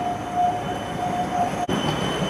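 Tram rolling past at a tram station in Amsterdam at night, a steady rumbling rail drone with a sustained wheel squeal, close and continuous throughout.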